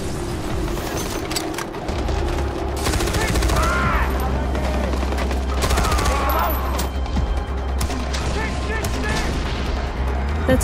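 Mounted guns fire in Far Cry 4's Valley of the Yetis, with dense, continuous bursts of heavy automatic gunfire and booming impacts running loud throughout, over a low rumbling game backdrop.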